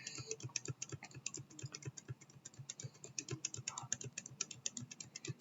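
Computer keyboard keys, mostly the Tab key, are pressed over and over in sharp, close clicks at an irregular but quick rhythm, with no voice over them.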